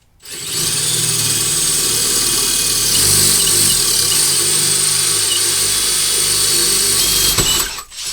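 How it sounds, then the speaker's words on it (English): A power drill in hammer drill mode bores a hole, running steadily for several seconds with a loud, continuous motor whine, then cuts out near the end. "if you have the hammer drill on your drill, you'll want to switch it now."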